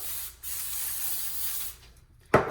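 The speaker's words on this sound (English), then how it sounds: "I'm just gonna go ahead and spray the paper lightly with some coconut oil" Coconut oil sprays onto baking paper in a light hiss, one near burst followed by a longer one, and a brief clatter ends the stretch.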